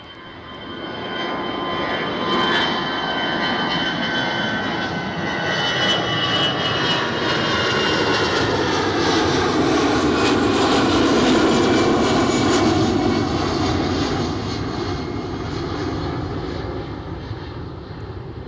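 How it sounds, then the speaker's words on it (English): An EasyJet jet airliner at Edinburgh Airport roars steadily throughout, a loud sustained engine rumble with a shifting whine that swells toward the middle and eases slightly near the end, with no talk. "So we have EasyJet outbound and Scottish Linda inbound"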